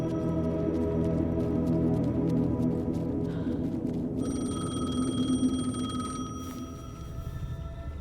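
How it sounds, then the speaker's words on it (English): A payphone in the video game Alan Wake 2 rings with a steady bright tone, repeated electronic trills running throughout over a low ambient hum. "The payphone was ringing."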